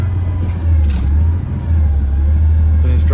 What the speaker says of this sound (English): Gas pedal a little bit here. I just don't want the truck to drive anywhere.